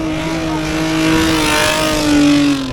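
A Subaru Forester fitted with a roof box accelerates uphill in a hill climb drag race, its engine loud and near, rising in pitch as it pulls away.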